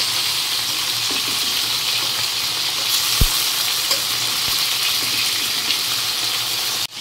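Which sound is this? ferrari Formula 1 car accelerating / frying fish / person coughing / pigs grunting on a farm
frying fish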